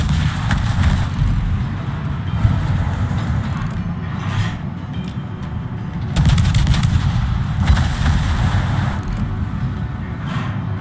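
Bombs strike a warship in a naval combat video game, a dense barrage of explosive blasts and gunfire-like cracks rumbling continuously, with heavier bursts of impacts near the middle and end.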